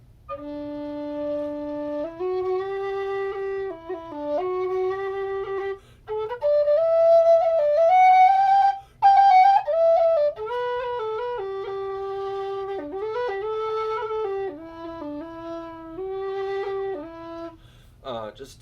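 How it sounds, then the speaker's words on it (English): An MK tin whistle plays a lively melody with clear, bright, breathy tones, sustained notes and quick ornamented runs, some reaching high and shrill, heard alone and up close with a short pause near the middle. "Just a really nice overall whistle."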